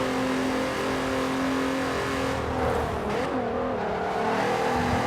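A Volkswagen Golf 3 VR6 engine in Forza Horizon 4 holds a steady, loud, droning rev with a slight dip and rise in pitch, with no talk over it.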